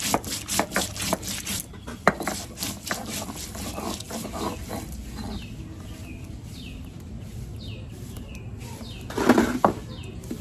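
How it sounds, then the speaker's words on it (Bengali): Peeled ginger pieces and whole cumin seeds are ground into a paste, making repeated rhythmic scraping and rubbing strokes that come close and fairly loud, with a scuffing burst near the end. "এখন আদা জিরে বেটে নিচ্ছি।"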